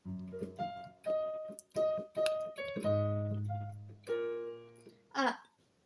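Solo piano plays the first section of a song: a steady run of clear chords and single notes, close and sustained, with a few brief accented hits near the end.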